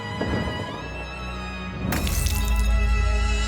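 A drinking glass falls and shatters, a sudden bright crash of breaking glass that spills into a ringing, scattering tail, heard near and loud over a soft tonal background.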